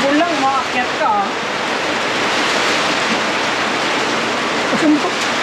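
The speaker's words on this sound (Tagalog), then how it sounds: "Ang lakas ng ulan par." Heavy rain pouring down in a dense, loud, continuous roar, with brief voices talking over it near the start and end.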